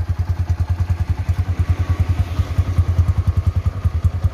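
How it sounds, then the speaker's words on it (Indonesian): A Yamaha MP Primus motorcycle engine idles close by, a steady rapid low thumping pulse with a faint clatter, running alone and unchanged throughout. "Stasioner dan suaranya itu di mesin halus banget, kadang ngitiknya hanya keluar di knalpot saja"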